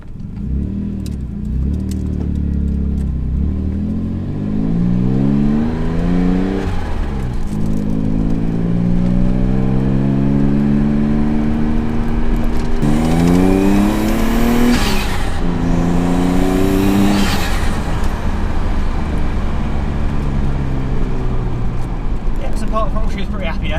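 Twin-turbo Ford Capri engine accelerating hard and revving, its pitch rising and falling through several loud, close sweeps over about twenty seconds.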